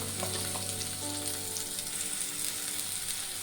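Finely chopped large onion hits hot oil in a pan and sizzles steadily and close for a few seconds, with a dense, even frying crackle and no talk.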